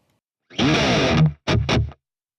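A high-gain electric guitar through a Diesel VH4 amp model on a Fractal FM3 rings out one distorted chord, then two short chugs, each cut off sharply by a tight noise gate into silence.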